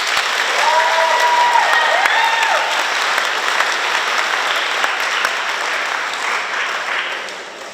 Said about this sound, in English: one last round of applause for all of our speakers.